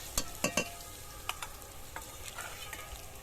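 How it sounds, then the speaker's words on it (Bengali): Taro greens with garlic and onion are stirred in a frying pan, giving a quiet sizzle and a series of distinct scraping clicks from the spatula, clustered early and then scattered. "একটু হালকা নেড়ে চেড়ে নিলাম।"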